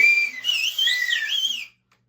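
A short, airy whistle attempt with a wobbly, uneven pitch that lasts under two seconds before trailing off.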